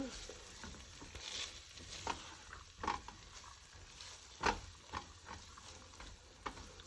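Farro salad with lavender being stirred and tossed in a bowl, soft scattered clicks and grainy rustles at an irregular pace, quiet and close.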